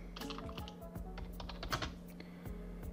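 Rapid clicks of a computer keyboard come up close as a short command is typed for a Minecraft game, with irregular bursts of keystrokes at low volume and no talking.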